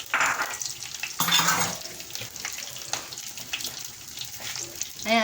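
Cooking oil heating in a pan before tilapia goes in, with ginger added, gives a steady close hiss and crackle of sizzling with clatters, some louder bursts, and a faint watery trickle in the background.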